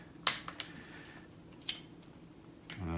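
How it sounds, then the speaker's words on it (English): Plastic ratcheting neck joints on a Transformers Earthrise Sky Lynx toy clicking as it is posed, a few sharp, separate clicks spread over the moment, close and fairly quiet against a faint background hum. "ratcheting joints in his neck."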